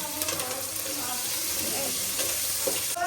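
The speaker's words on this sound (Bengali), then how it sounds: "এই যে পেঁয়াজ আর কাঁচামরিচ কুচি দিয়ে দিলাম।" Chopped onion and green chili go into oil in a pan, just after pumpkin bori were fried, producing a continuous close sizzle with a hissy, bubbling edge throughout.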